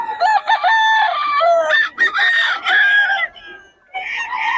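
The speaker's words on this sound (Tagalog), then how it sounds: "Solid mga manok ni Batang." Roosters crowing close by, several overlapping loud crows in quick succession with a brief pause before one more starts.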